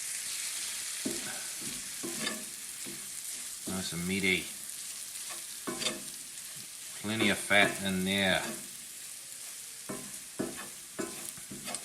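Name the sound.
mince meat sizzling while frying in a pan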